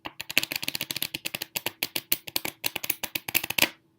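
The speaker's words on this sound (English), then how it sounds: "You're really shuffling red cards into red cards and black cards into black cards." A deck of playing cards being riffle-shuffled close up, a rapid run of crisp flicking clicks in quick bursts lasting a few seconds, ending in a short final riffle.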